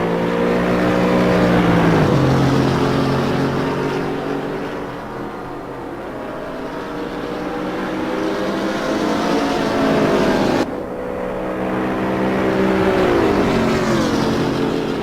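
Race cars lapping Monza in a sim racing game, with loud continuous engine whine rising and falling through gear shifts and a sharp cut at a shift, close and steady throughout.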